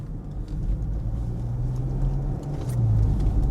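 A heavy SUV accelerates, heard from inside the cabin as a loud, continuous engine rumble whose low tone climbs steadily as the vehicle speeds up.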